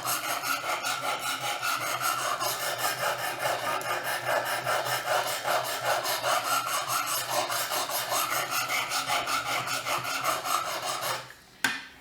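A knife is worked back and forth across a sharpener with a steady, rapid raspy scraping, close and fairly quiet, continuing evenly before stopping abruptly near the end.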